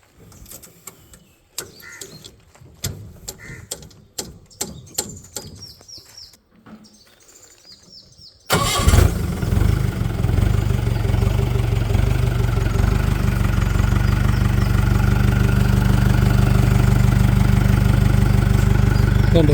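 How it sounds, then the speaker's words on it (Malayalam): A Mahindra MDI diesel engine in a Willys-type jeep cranks over with irregular clicks and rattles, then catches and settles into a loud, steady, throbbing idle nearby, with birds chirping faintly before the start. "മഹീന്ദ്രയുടെ മാർഷലിൽ വന്നേനെ MDI എഞ്ചിൻ"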